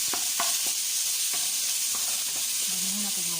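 Garlic and onions frying in a pan for chicken kaldereta, a steady close sizzle with a few stirring clinks and scrapes, no talking.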